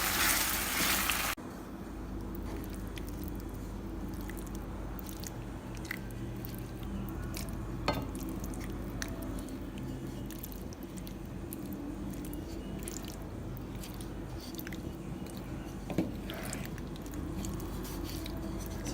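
Someone chews a plump shrimp from a creamy garlic pasta, with soft, wet squishing bites and occasional faint crunches close to the mouth, over a steady low background hum after a brief loud rush at the start.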